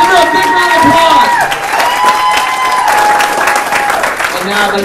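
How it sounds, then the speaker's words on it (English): Loud, sustained applause from an audience at a holiday networking event, with cheering voices and crowd chatter mixed through the clapping. "Give her a big round of applause."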